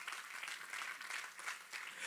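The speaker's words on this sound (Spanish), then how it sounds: "Denle un aplauso fuerte al Señor." A church congregation claps loudly and continuously in praise, a dense, even wash of many hands filling the hall for about two seconds, with no speech over it.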